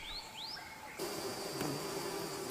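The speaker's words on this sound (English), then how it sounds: "Rock bees are among India's most dangerous creatures." Bird chirps give way to a dense, steady buzzing of a swarm of rock bees, a continuous droning hum close by.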